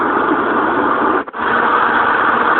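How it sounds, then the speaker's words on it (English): Steady broadband whoosh of a fan setting on a white noise machine, loud and even, briefly cutting out once midway before resuming unchanged. "That's a fan."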